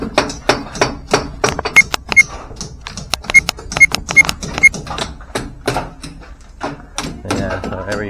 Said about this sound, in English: The guys are chipping away.